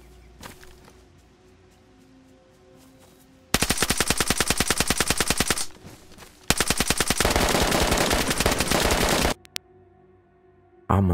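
Automatic gunfire in the survival game DayZ, two long rapid bursts of dense, loud shots separated by a short pause, with quieter movement sounds before and after.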